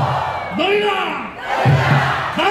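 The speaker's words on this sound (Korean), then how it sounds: "다시 한번 그때의 함성으로 외쳐주십시오" A large crowd at a political rally shouts in unison, two rising chanted bursts separated by a short pause, loud and reverberant as if outdoors.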